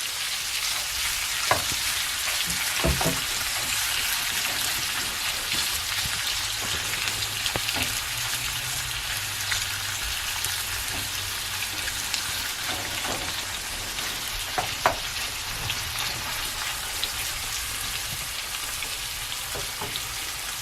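Sausage sizzles steadily in a pan for the whole stretch, browning as it fries, with scattered scraping and clicking from a utensil stirring it.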